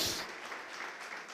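Church congregation applauding during a sermon, a brief, fairly quiet wash of many hands clapping with no distinct individual claps standing out.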